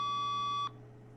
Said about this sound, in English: The fucking phone rang?